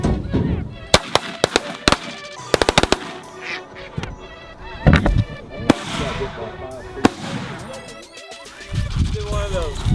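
Shotgun blasts ring out during a bird hunt in Alberta, a quick burst of several sharp shots followed by more scattered bangs, with geese honking and people talking between the shots.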